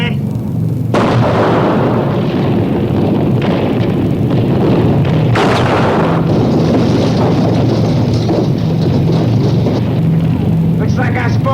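Anti-aircraft guns fire in a TV war drama, a dense, continuous roar of rapid booming bursts with overlapping blasts throughout, loud and close, with voices speaking over the barrage.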